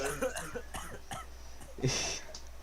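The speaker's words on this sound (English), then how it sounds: "He's just coughing caffeine right now" Muffled voices murmur faintly, then one short cough sounds near the end, quiet and somewhat distant.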